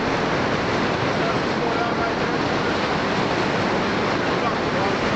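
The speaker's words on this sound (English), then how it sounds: "the river is ripping so hard" A fast-flowing steelhead river rushes in a dense, unbroken roar, loud and close, with no pauses across the few seconds.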